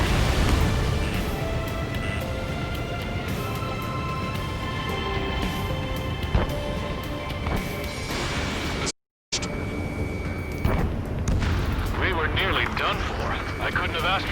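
A tank explosion with artillery fire in the Ace Combat 7 video game: sharp blasts and rumbling impacts over a constant engine drone, with radio chatter and talk running throughout.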